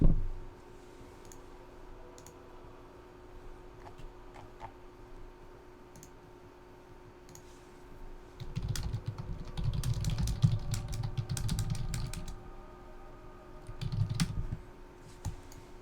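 Rapid, furious typing on a computer keyboard during an Arena of Valor esports tournament broadcast, clacking keys that start sparse and faint, then burst into loud, dense flurries of clicks around the middle and again near the end.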